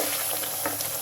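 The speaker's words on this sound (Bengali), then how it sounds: "খুব ভালো করে মাছের মধ্যে মশলা দিয়ে কষিয়ে নিচ্ছি" Prawns with spices sautéing in a pan for a prawn and spinach dish, a steady close sizzle with a few soft stirring scrapes, brief and continuous with no voices.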